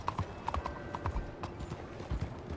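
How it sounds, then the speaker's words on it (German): Horse hooves clip-clopping in Red Dead Redemption 2, several quick irregular hoof strikes close by over a quiet game background, with no talk. "Ich habe vergessen, wie man Pferde beruhigt."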